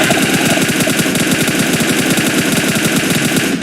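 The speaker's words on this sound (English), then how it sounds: "Not very accurate shooting." Loud, sustained rapid-fire gunfire in a video game, a steady unbroken stream of close machine-gun shots with no pauses.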